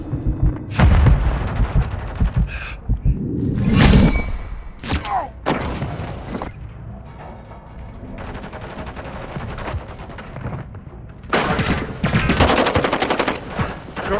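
Gunfire in the Call of Duty MW3 video game: loud bursts of automatic fire, single shots and booming thuds come in irregular clusters, with quieter gaps between volleys.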